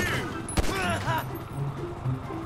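A single sharp gunshot in GTA 5 during a police mod patrol, fired at a suspect's legs, cracking out close and brief amid other game sounds.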